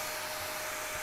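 A vacuum cleaner's powerful motor running with a steady, close whirring roar and airflow hiss, constant throughout the short stretch with no speech.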